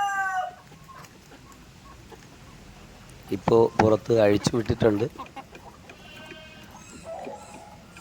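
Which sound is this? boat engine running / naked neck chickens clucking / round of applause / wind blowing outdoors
naked neck chickens clucking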